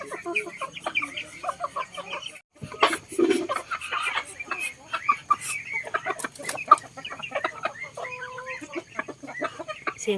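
Several chickens cluck and squawk nearby in an outdoor yard, busy and irregular, with a person's voice briefly mixed in.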